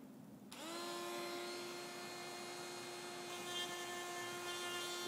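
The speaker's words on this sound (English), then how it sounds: "Shaving off the back of the blade." A power tool starts abruptly and whines steadily while shaving metal off the back of a fan blade during balancing, a sustained high-pitched grinding drone with a faint hum, close and loud, no voices.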